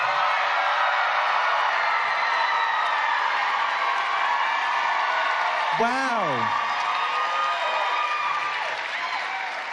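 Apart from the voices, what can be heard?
live audience cheering and applauding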